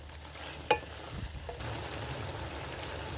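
Soft, faint sizzling of potatoes and aubergine frying in a pot, with a single sharp utensil clink early on.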